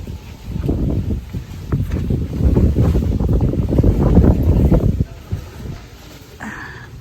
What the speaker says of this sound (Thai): ลมก็ดีด้วย